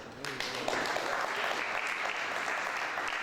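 Audience applause for the Liberian foreign minister at an Independence Day gathering of Liberians in the United Kingdom, building quickly into sustained clapping, with a voice briefly heard at the start.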